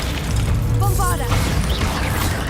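Bombarda spell blast in Hogwarts Legacy, a single short burst with crashing debris under someone shouting, with a magical whooshing shimmer trailing after it.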